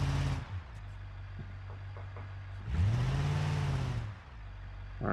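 In the BeamNG driving game, a car's engine idles with a low hum while the car reverses, swells into a louder rev partway through, then settles back to idling.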